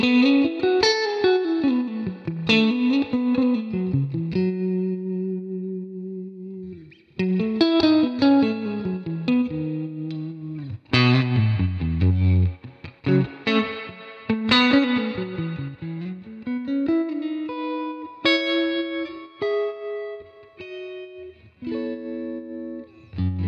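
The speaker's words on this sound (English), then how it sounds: "we just come straight out of the gate with the reverb on here" A Stratocaster electric guitar plays clean melodic phrases through a Universal Audio Dream '65 Fender Deluxe Reverb-style amp model with reverb switched on, the notes ringing out with lingering tails and short gaps between phrases.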